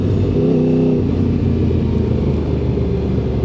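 A go-kart pulls out of a turn on the SpeedWay kart track in Elektrėnai, its small engine droning loud and close with a rising rev pattern early on and steady rumble throughout, no talking.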